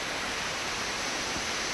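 The Quilcene River on Washington's Olympic Peninsula, a dense, even wash of rushing water heard from a trail above, steady and broadband throughout with no voices.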